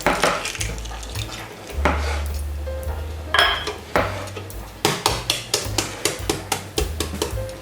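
Knife strokes slicing peeled hard-boiled eggs on a board for an Argentine salad with tomatoes, garlic and telemea cheese, a run of sharp clicks and taps that quickens into regular close cuts, with no talk.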